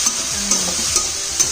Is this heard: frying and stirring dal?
yes